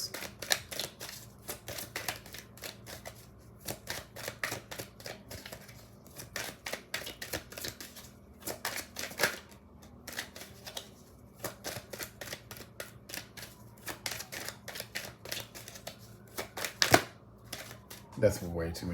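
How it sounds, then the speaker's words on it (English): Tarot cards are reshuffled in a steady run of rapid, crisp riffling flicks and soft slaps that go on throughout, close and fairly quiet. "Let me reshuffle these."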